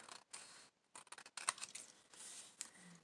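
Scissors snip and trim paper for junk journal cards in a series of close, crisp cuts with short pauses between them.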